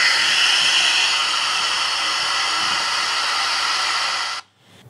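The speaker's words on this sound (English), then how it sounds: "Max the speed on the hand dryer and let it do the work for you." A hairdryer blows at full power with a steady loud whooshing roar, then cuts off abruptly near the end.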